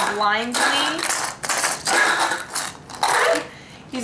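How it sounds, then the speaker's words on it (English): Dice rattle inside a covered cup during a Zombie Dice game, coming in bursts of clattering shakes separated by brief pauses, close and fairly loud. "he's going to cover it and shake it. Shake all those dice around."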